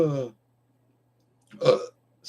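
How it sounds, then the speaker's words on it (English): A single loud, raspy human burp erupts partway through, after a brief voiced sound at the start, with quiet gaps around it. "sorry for that burp there, whatever that is"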